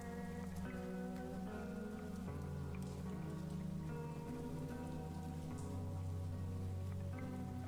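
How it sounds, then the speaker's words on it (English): Rain-like shower hiss in an experimental film soundtrack, a steady wash of falling water layered under sustained droning musical tones that shift pitch, continuous and fairly loud throughout. "Actually, it sounds more like a shower than rain."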